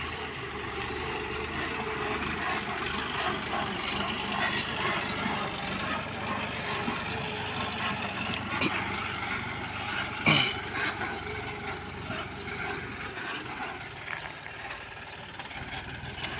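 A John Deere 5050D tractor runs steadily during rice-field work, a moderate continuous engine drone with a mechanical hum and one brief knock partway through.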